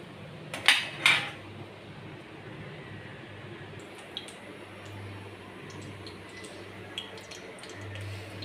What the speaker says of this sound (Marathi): गॅसवर कढई मी ठेवलेली आहे.